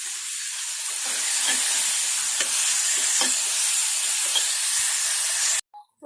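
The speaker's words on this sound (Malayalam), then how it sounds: "അതിലേക്ക് നമുക്ക് ഒരു സവാളയും കുറച്ച് ചെറിയ ഉള്ളിയും ചെറുതായി അരിഞ്ഞത്, അതിലേക്ക് കുറച്ച് ഉപ്പും കൂടെ ചേർക്കാം." Chopped onion and small shallots with salt sizzle and fry steadily in a hot pan, a continuous close hiss with soft crackles and occasional stirring scrapes, ending abruptly.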